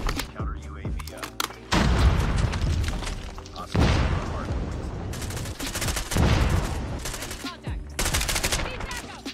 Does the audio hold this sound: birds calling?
no